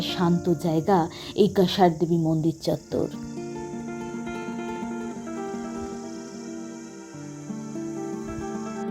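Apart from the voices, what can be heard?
crickets chirping around Kasar Devi temple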